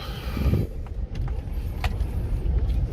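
A 2014 GMC Sierra 1500 4WD Denali on the move, heard from inside the cab as a steady low road and engine rumble with faint interior rattles and ticks above it.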